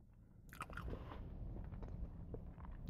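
Close-up mouth sounds of someone eating Chick-fil-A fries, with soft crunches and wet chewing in an irregular rhythm, quiet and without speech.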